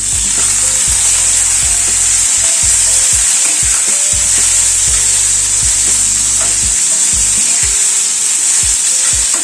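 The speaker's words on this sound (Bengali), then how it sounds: "আলুটাকে একটু ভেজে নেওয়ার পরে এখানে পেঁয়াজ কুচি অ্যাড করছি।" Chopped onions frying with potatoes in a pan for a roti or paratha sabji, a loud, dense sizzle with steady rhythmic scraping strokes of a spatula and no talking.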